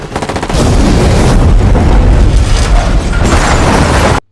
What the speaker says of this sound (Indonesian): salah satu mobil pengawal meledak yang diikuti dengan beredelan tembakan dari pasukan pemberontak